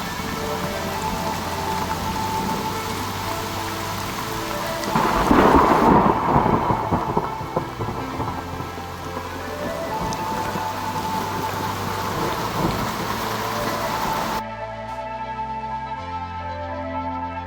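Heavy rain pours steadily at Sudhagad fort, with a loud roll of thunder rumbling in the middle before the downpour continues alone.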